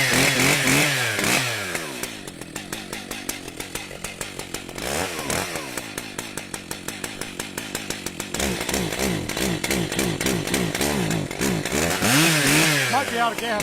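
A Stihl MS880 chainsaw cuts frozen wood, its engine loud and close, revving hard and dropping back repeatedly in bursts.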